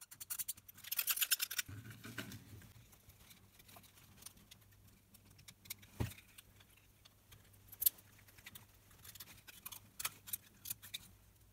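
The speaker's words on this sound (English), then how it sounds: "Cut two holes in adapter body and slide the terminals in." Scissors-like snips and scratchy cuts into a plastic battery adapter body, made to fit a lithium battery to a NiCd power tool. The cutting is quiet and close, with a burst early on and scattered clicks and scrapes after.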